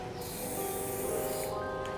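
A steady, close aerosol spray hisses continuously over a poodle's coat at a dog show, a broad airy rush that holds evenly without a break.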